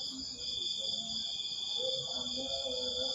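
Crickets chirp at dawn in a dense, steady high trill that never breaks, with faint scattered low sounds underneath.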